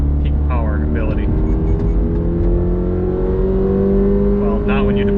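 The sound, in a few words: 2022 Subaru BRZ engine revving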